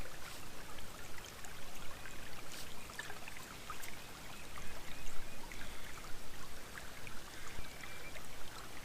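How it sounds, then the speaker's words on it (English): Mountain creek of snowmelt runoff in Sweden flowing rapidly, a steady soft rushing and trickling of water heard alone, with no voices. "This is runoff from the snow melting. In general, you can drink the water straight out of the creek as long as it's moving rapidly."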